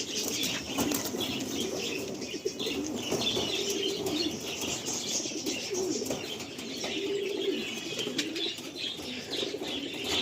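Andhra pigeons in a loft in Baghajatin, Kolkata, flap their wings and coo continuously, with soft chirps layered into a dense, close, steady flock sound.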